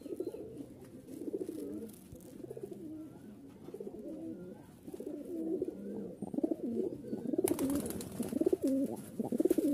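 Pakistani teddy pigeons cooing close by, soft repeated throaty coos overlapping steadily throughout, with a brighter noise joining near the end.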